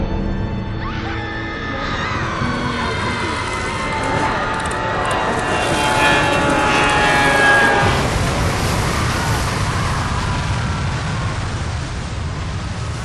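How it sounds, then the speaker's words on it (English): A plane crashing in the BioShock intro: a broad, roaring wash of noise that swells and churns with a shrill, screaming tone mid-way, then a heavy rumble as the impact hits and the roar carries on. "The plane suddenly crashes."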